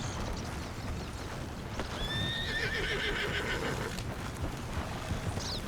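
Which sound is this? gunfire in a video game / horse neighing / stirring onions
horse neighing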